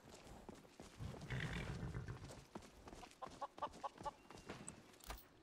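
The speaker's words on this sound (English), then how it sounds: "Hey, there's horse." A horse in the video game Skyrim, with a short burst of animal sound and then a run of light, rhythmic hoof clops nearby, all fairly quiet.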